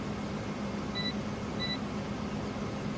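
Two short, high electronic beeps a fraction of a second apart from farm equipment nearing the end of a field in Farming Simulator 15, over a low steady engine hum.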